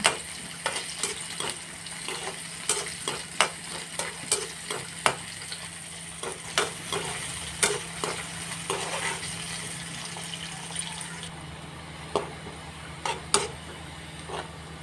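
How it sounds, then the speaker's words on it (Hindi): Onion fries in hot oil in a kadhai, a low steady sizzle punctuated by sharp, regular spatula knocks and scrapes against the pan, close and without talk. "देख तेल गरम है, प्याज दे देली"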